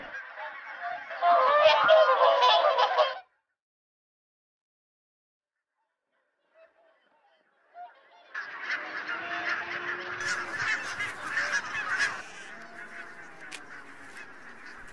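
Geese feeding on grain on Islay farmland honk in a noisy flock, first a dense burst of calls, then a pause, then a longer stretch of overlapping honking from many birds at moderate distance.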